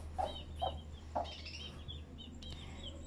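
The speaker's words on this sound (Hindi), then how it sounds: "फिर खुद ब खुद जा रहे हैं अंदर हमारे चूजे।" Young chicks head into their coop on their own, giving a few faint, brief chirps and clucks spaced apart over a low steady background hum.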